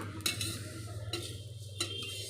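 Cumin and fennel seeds dry-roasting in a pan, with a low steady hum underneath and three sharp scraping clinks of a utensil stirring the seeds, close by, with no talk.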